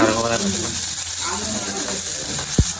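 Onions and bell pepper sauté in a pan with a continuous close sizzle and hiss, while people talk over the cooking throughout.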